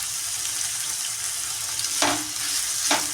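Tomato and onion fry in a pan with a steady, bright sizzle throughout. Two sharp stirring swipes cut through the frying noise near the end, and no one speaks.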